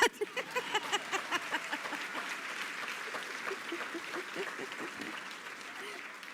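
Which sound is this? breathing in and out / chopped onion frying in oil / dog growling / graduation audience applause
graduation audience applause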